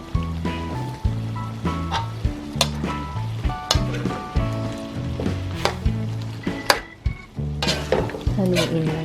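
Spicy squid sauce thickened with cornstarch is stirred in a pan, Korean style, with steady scraping strokes and a low sizzle under melodic background music.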